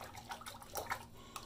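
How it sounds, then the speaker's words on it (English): A razor from a starter shaving kit is dipped and shaken back and forth in a sink of water, giving several soft, close splashes and swishes at an irregular rhythm, fairly quiet. "I'm gonna just dip it in the water and shake it back and forth"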